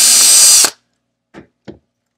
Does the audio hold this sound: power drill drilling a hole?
yes